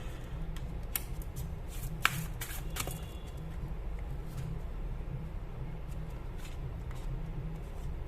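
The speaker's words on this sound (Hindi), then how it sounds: "पहले 2 कार्ड्स और निकाल लेती हूं" Tarot cards are shuffled and drawn at close range, with soft papery flicks and a few sharper snaps clustered early, over a faint low hum.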